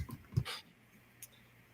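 A dog gives a couple of short whimpers and quick breaths close by, then faint panting fades into quiet.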